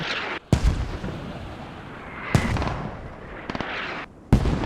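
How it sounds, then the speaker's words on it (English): Mortar shells explode in the military shooter game Squad: three heavy, booming blasts land roughly two seconds apart, each a loud, sharp crack with a rumbling tail, over a steady low battlefield drone. "That was a direct hit. Again, mortars are very powerful"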